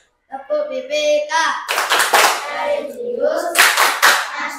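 An Indonesian primary class does a rhythmic clapping routine, children chanting together in time with quick bursts of hand claps, loud and close, with sung group voices between the clap patterns.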